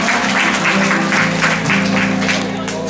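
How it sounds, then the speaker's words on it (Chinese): Steady applause from an audience at an open jam session in a hot spring museum in Beitou, dense and continuous with sustained clapping over a low tonal hum. "掌声一下。"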